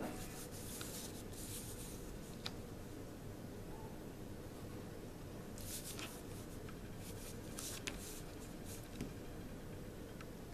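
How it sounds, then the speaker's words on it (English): A pencil lining in the outline of a shape on an orthographic drawing, a faint continuous scratchy rubbing on paper with small clicks and strokes throughout, heard alone. "I'm just lining in with a pencil to add the outline of the shape."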